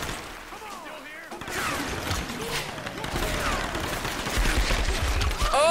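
Gunfire from a gun in Tomb Raider 2013 game, a sustained run of fast shots with ricocheting whines, loud and continuous, with someone talking over part of it.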